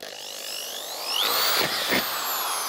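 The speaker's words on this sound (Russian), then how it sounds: "И делаем отверстие в нижней части ведра." A drill with a spade bit bores a 16 mm hole in the bottom of a plastic bucket, a loud close whine that rises in pitch as the motor speeds up, dips and revs again, with no voices.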